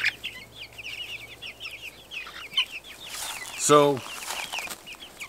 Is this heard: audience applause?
no